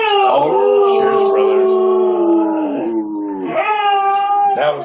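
A voice imitates a dog's howl, a long drawn-out wavering vocal wail that rises and falls across several seconds, loud and close, with no real dog audible.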